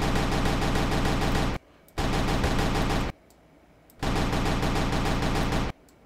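A full-auto shotgun in a bird-hunting video game fires three long, loud continuous bursts, each about a second or more, separated by short near-silent gaps.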